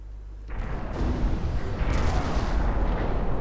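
A 9-inch naval gun fires in Ultimate Admiral: Dreadnoughts, a deep booming blast that swells into a long rumbling roar, with a second sharper report adding to the heavy, sustained rumble.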